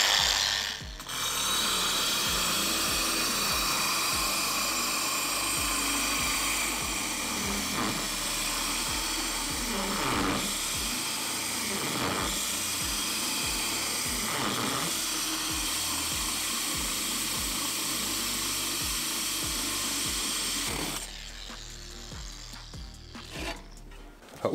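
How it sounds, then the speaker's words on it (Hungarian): An X-LOCK angle grinder fitted with a hole-cutting attachment drills a hole at reduced speed, giving a steady, loud grinding rasp for about twenty seconds that cuts off near the end. "Természetesen a lukfúrásnál a fordulatszámot le kell csökkenteni, és akkor már is fúrjuk a lukat."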